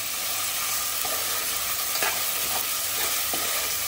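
Onions and tomatoes cook down soft in a pan, a loud continuous sizzle with repeated scraping strokes of a spoon stirring through it.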